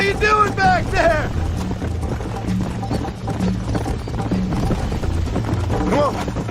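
Galloping horse hooves in the Red Dead Redemption video game, a fast steady clip-clop drumming close by throughout, with wind noise and occasional voices speaking over it.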